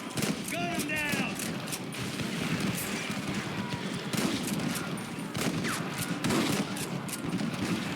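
Gunfire in a Red Dead Redemption shootout with Rustler guards: dense, overlapping shots and volleys rattle steadily through all eight seconds, with shouting voices and a horse's hoofbeats mixed in.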